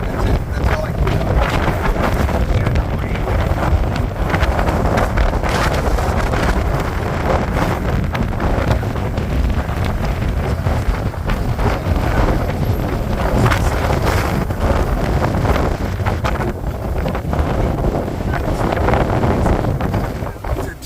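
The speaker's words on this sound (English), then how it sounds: "We've been getting 40 to 50 mile an hour wind gusts here in northeastern Colorado." Strong blizzard wind gusts buffet the microphone during a winter storm in northeastern Colorado, a loud, continuous roar with rushing surges and no break across the whole stretch.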